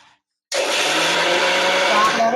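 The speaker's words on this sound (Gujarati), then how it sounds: "તો આમાં આપણે થોડુંક પાણી નાખશું તો આપણે આને પીસી લેશું" A mixer grinder whirs loudly and steadily as it grinds pearl millet (bajra) with a little water, starting abruptly after a brief quiet and running as a continuous high motor roar with a faint rising whine.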